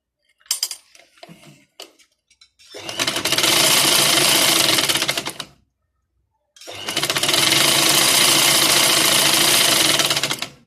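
A sewing machine stitching a box trouser pocket runs in two sustained loud bursts of rapid whirring, separated by a short pause, after a few soft handling taps at the start.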